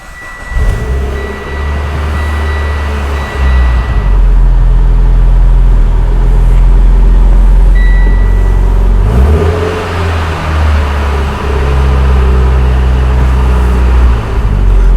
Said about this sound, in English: when you've got a twin disc or triple plate, a multi-disc clutch system, they're gonna make more noise than a stock clutch.